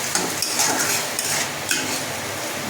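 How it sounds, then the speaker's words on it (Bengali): Potato and pointed gourd are sautéed in oil over low to medium heat. A spoon scrapes and clinks against the pan in irregular strokes over a soft background sizzle. "লো টু মিডিয়ামে এরকমভাবে ভালো করে কষাতে থাকবো"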